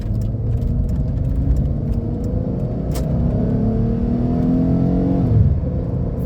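A 1999 Mercury Cougar V6 with traction control off accelerating hard from 0 to 60, engine note climbing steadily in pitch through a gear, then dropping at a shift near the end, loud inside the cabin, no voices.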